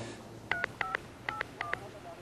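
Telephone keypad tones dial out to a hotel, four quick paired beeps spaced evenly over a low background hum, clear and close.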